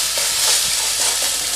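Rui fish pieces frying with ginger in a pan, a dense loud hiss and sizzle with faint scraping of stirring underneath, close up and continuous.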